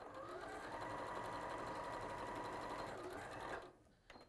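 A sewing machine runs a seam in one steady, continuous whir that stops abruptly near the end, followed by a soft click and faint handling noise.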